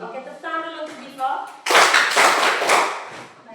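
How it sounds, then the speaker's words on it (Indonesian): A classroom of students claps hands together for about two seconds, loud and near, just after a voice speaks. "tepuk tangan dulu untuk Divo"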